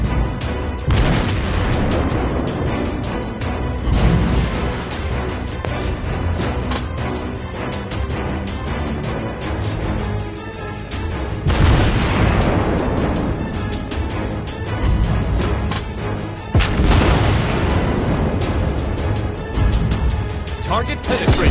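Naval artillery booms and shell impacts from the mobile game World of Warships Blitz, several heavy blasts spaced seconds apart over a continuous dense battle din, with voices talking throughout.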